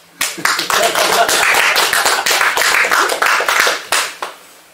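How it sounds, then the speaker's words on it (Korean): An audience at a Cheondogyo religious lecture breaks into loud, close applause, many hands clapping densely for about four seconds before tapering off. "여기서 박수"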